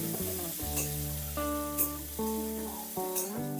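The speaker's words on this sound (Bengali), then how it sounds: "এখন আমি এই তেলের মধ্যে রসুন টমেটো আর চিংড়ি মাছ সবটাই দিয়ে দেব দিয়ে হালকা ভেজে নেব" Garlic, tomato and shrimp hiss in hot mustard oil with a continuous sizzle under a steady tonal hum, and a few brief bursts of spattering.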